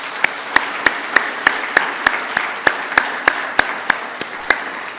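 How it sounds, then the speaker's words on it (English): An audience at the finals of a debate competition applauds with a soft wash of clapping, one pair of hands standing out in sharp, evenly spaced claps about three per second. "Please give her a round of applause."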